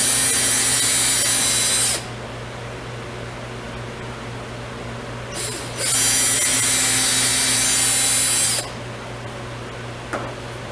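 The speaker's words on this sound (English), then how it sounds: "drill some starter holes," Drill boring starter holes in a wooden ukulele stand, two loud sustained bursts of whirring, each a couple of seconds long, separated by a quieter stretch of low hum.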